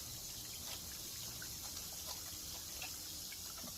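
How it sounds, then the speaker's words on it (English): Hot water runs steadily from a tap, a continuous close hiss and trickle with no talk. "I'll turn on the water."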